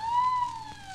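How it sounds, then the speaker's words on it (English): A police car siren from a 1940s radio drama wails with a steady, slowly falling tone, loud and close for about a second with no talk over it. "There's a police car not far off."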